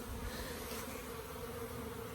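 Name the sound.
honey bees flying around an apiary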